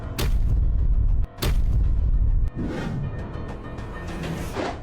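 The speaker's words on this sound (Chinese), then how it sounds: "随着一声爆炸" Loud explosive blasts boom in quick succession, two heavy detonations with rumbling tails, followed by a continuing roar of debris and crackling rushes, loud and close with no voices.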